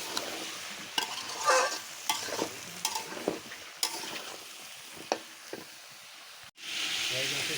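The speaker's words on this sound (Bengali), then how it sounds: "আলু আগে একটু কষায় নিলে ভালো হয়" Potatoes are stirred in a hot pan with a spoon, giving repeated scrapes and soft sizzling at close range. A brief louder hiss comes near the end.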